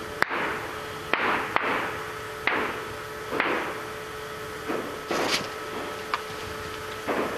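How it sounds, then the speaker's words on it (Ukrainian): Gunfire aimed at a Russian FPV drone: a series of sharp, distant shots cracking out at irregular intervals over steady outdoor background noise, with no talking. "Це по ньому стріляють."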